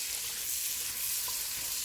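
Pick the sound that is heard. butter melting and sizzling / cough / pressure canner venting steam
butter melting and sizzling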